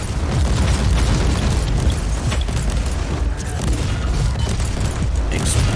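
A dense, continuous roar of booming grenade explosions in Warhammer 40,000: Inquisitor rumbles loudly throughout, with no pauses between the blasts.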